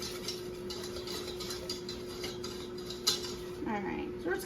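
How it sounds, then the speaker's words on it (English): A roux is stirred in a pot with a spoon or whisk, giving soft repeated scraping and light metal clinks at a moderate distance, over a steady background hum, with a brief louder clink near the end. "We're just gonna keep stirring that."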